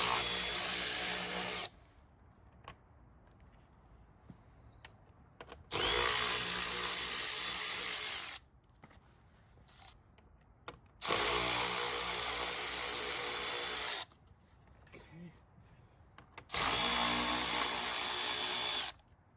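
A power tool removes 10 mm bolts from the bumper of a BMW G80 M3. It runs in four loud, whirring bursts of about two to three seconds each, separated by quieter pauses with faint handling noises.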